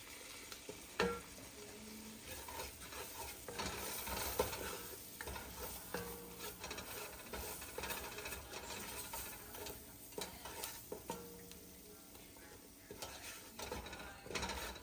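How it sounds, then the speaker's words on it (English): Flour being stirred and browned in a beef stew pot: steady scraping and stirring over a faint continuous sizzle, close and quiet, with no voices. "Get this flour brown."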